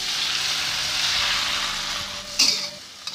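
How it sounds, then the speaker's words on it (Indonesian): Stir-fry sauce with tofu, green beans and egg simmering in a pan after a little water is added, giving a close, continuous bubbling sizzle that fades slightly, then one brief utensil scrape near the end. "Jangan lupa untuk diaduk-aduk sambil biarkan air mendidih ya, kuah mendidih."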